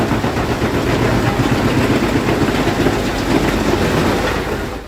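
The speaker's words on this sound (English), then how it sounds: "A 6-cylinder Volvo powerhouse, 551 HP, 405 kilowatts, and still steady under load." A 551 HP six-cylinder Volvo engine drives a drum scrap shredder under load: a loud, dense, continuous mechanical roar with steady rumbling and rattling and no pauses.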